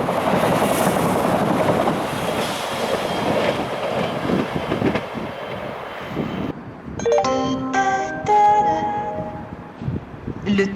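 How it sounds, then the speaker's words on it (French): A TGV arriving from Paris Gare de Lyon rolls into a station with a loud steady rumble of wheels on track, followed by a chiming ding-dong station announcement tone near the end. "Le TGV, en provenance de Paris, gare de Lyon, va entrer en gare, voie C."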